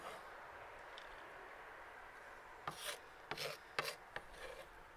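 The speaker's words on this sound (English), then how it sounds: "We mince the herbs." A knife mincing fresh herbs on a board, soft rubbing at first and then a short cluster of quick chopping strokes near the end, close but fairly quiet.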